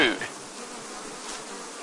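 Honey bees in a hive buzzing as a steady, close, dense hum that stays even throughout, with no voices.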